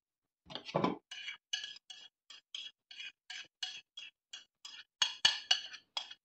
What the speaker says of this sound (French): Donc je verse mes pommes.